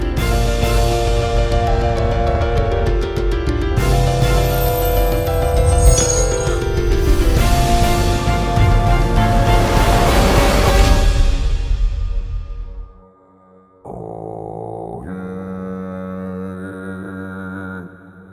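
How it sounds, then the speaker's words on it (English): A giant creature's burp from the video game Windbound: long, low, rumbling and monstrous with gurgling texture, swelling and fading, followed after a brief silence by a shorter tonal growl. "it sounds like this giant, tremendous burp"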